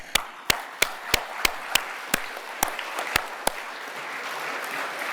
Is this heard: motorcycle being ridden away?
no